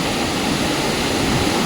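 A mountain stream rushes beneath a single-log wooden bridge on the Madmaheshwar trek, giving a loud, steady roar of flowing water with no speech.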